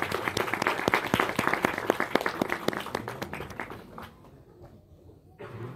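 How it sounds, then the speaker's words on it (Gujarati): Audience at a dayro folk show in Gondal breaking into lively applause, quick overlapping claps loud and close for about four seconds before thinning out into quieter scattered sound. "ગોંડલ ધારાસભ્ય ગીતાબા જાડેજા સાહેબ આવ્યા છે, એકવાર એમને તાળીઓથી બતાવી દીધું,"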